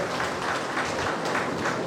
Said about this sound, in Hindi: पहले जोरदार तालियों से इनका स्वागत किया जाए